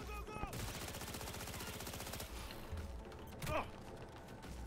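Turret gunfire in a video game: a rapid, evenly spaced burst of mechanical shots lasting about two seconds, followed by clanking and another sharp impact, with a voice speaking nearby.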